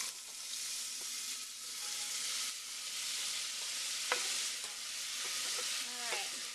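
Marinara ingredients frying in hot olive oil in a pot, a steady close sizzle with an occasional clink of a utensil against the pot.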